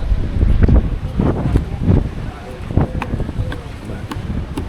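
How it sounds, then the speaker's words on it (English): Breezy, gusty wind in Palmanova, Mallorca, blowing steadily as a loud, rumbling rush across the microphone throughout, with no talk in between. "See the wind blowing on the flag up there. It shows you how breezy it is"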